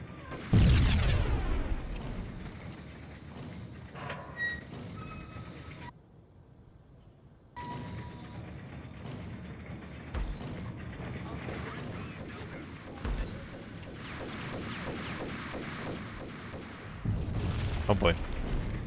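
Gunfire and heavy booms in the PC game Max Payne, played on an LGA775 Windows Me computer, rumble through a dense, loud mix of repeated shots and blasts, with a brief lull partway and a voice talking over it.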